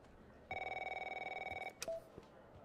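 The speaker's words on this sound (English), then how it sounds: "Okay, I need to answer the phone." A telephone rings in The Operator video game, a quiet, rapid trilling electronic ring lasting about a second, followed by a click as the call is picked up.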